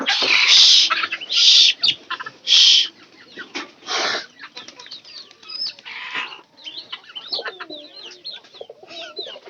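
Chickens cluck in a backyard flock, with several loud, bursty calls close by early on, then a scatter of softer clucks and chirps.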